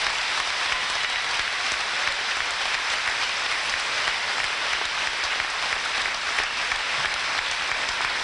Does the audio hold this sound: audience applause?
yes